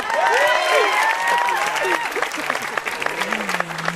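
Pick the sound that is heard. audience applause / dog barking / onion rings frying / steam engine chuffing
audience applause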